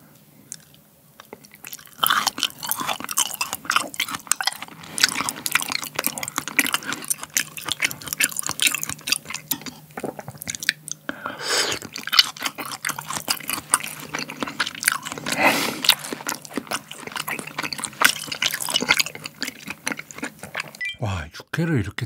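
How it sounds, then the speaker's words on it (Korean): Close, wet chewing of cubed raw beef yukhoe served with a savory-sweet sauce at a home Korean eating spread, soft squishy mouth sounds running steadily for about twenty seconds after a quiet start. "깍둑 육회 먼저."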